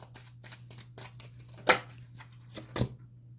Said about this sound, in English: let's get some Oracle cards for you